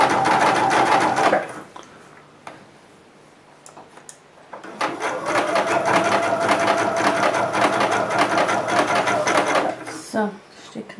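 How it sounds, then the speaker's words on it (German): A sewing machine stitching slowly through a thick, layered seam of a hooded loop scarf, a loud close mechanical whir running in two long stretches separated by a pause, with someone talking. "da müssen wir vorsichtig nähen, langsam und vorsichtig"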